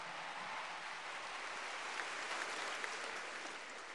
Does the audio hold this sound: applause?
yes